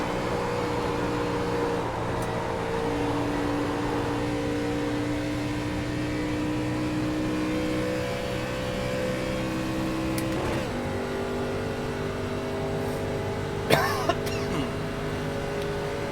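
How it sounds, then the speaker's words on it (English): Gen 4 stock car engines idle in a Cup Series racing sim set at 2008 Daytona, a steady layered drone with shifting pitches, plus a short burst of noise near the end. "let me hear them engines roar"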